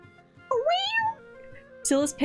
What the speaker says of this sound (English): only manages a couple of steps before an offended meow turns into a hiss